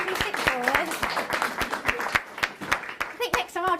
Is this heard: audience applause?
yes